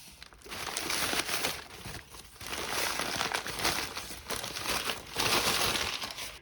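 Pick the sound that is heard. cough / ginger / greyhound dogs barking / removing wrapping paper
removing wrapping paper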